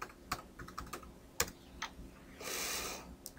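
Typing on a computer keyboard at a login page, a quick irregular run of light clicking keystrokes with a brief burst of faster tapping, close and clear with no talk.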